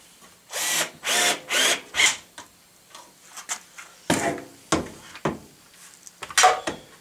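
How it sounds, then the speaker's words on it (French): A power screwdriver drives screws while a car radiator is being repurposed: three or four close, loud whirring bursts in quick succession, followed by scattered softer knocks and handling clatter. "Là, ça visse, j'aime bien que ça visse quand même."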